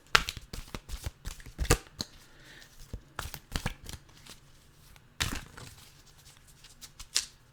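Oracle card deck shuffled by hand in repeated crisp riffling bursts with short pauses between, close and fairly loud, no talking over it.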